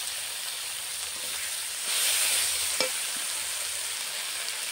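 Chopped tomatoes go into a pan of sizzling egg and soyabean curry with curry leaves, a steady close frying hiss that swells briefly as they hit the oil, with a light clink of a utensil and no talk.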